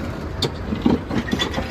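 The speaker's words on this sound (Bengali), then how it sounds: "এই যে যাত্রীবাহী ট্রেনটি এখন প্ল্যাটফর্মে দেওয়া হবে" A passenger train with a failed engine is shunted toward a platform at the Khilgaon rail gate: a loud, close rumble of railcars with scattered clanks and metallic knocks, and no voices.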